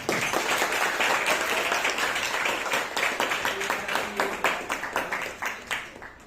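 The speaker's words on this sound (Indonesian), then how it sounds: "silakan beri tepuk tangan ya" A classroom of students applauds a classmate's explanation, giving a dense burst of many hands clapping that continues steadily and thins toward the end, with faint voices underneath.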